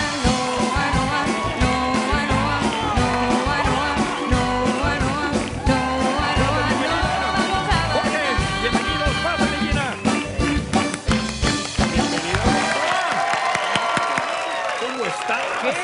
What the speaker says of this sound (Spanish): Venga el aplauso para Jorge A. Jiménez y Gina Vargas